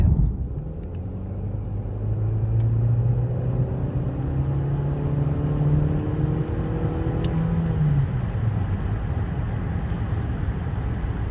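A 2014 Chevy Cruze LT RS accelerates from inside the cabin, with a low steady engine drone whose pitch climbs gradually and then eases off, under constant road rumble.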